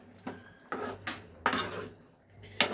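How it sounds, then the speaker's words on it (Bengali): Mashed cabbage bhorta being stirred in a pan, with several distinct metallic scrapes and clinks of a spoon against the pan at irregular intervals. The sounds are fairly close but quiet, with no voices. "এবার সবগুলোকে একসাথে নাড়তে থাকবো যতক্ষণ না এটা ড্রাই হচ্ছে"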